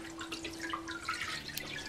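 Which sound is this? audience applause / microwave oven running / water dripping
water dripping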